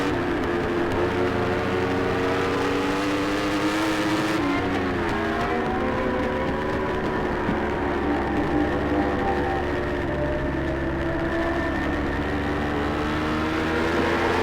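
A Yamaha R1 racing motorcycle screams loud and near at full throttle in a Formula Pacific road race, with a steady high engine whine that shifts up and down through gear changes and keeps going without pause.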